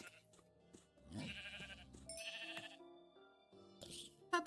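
Minecraft sheep bleating as it is struck, a few short wavering bleats mixed with game chimes and clicks, close and moderately loud with no talk.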